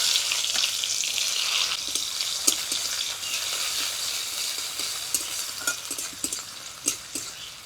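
Two dried red chillies, five-spice seeds and chopped onion sizzle in mustard oil, a steady close hiss dotted with crackles and occasional scraping stirs in the pan.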